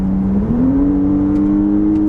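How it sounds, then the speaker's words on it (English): A 2025 Audi SQ5 with a 3-liter turbocharged V6 accelerating, heard as a loud, steady engine drone whose pitch climbs smoothly in the first half-second and then holds high and even. "So we have a 3-liter turbocharged V6 engine."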